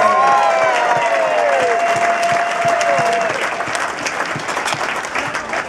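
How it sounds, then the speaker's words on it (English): Dense audience applause in a cruise ship dining room aboard the Golden Princess, a steady roar of many hands clapping that slowly tapers off, with a loud voice over the start. "let's hear a big thunderous round of applause for your executive chef, it's John!"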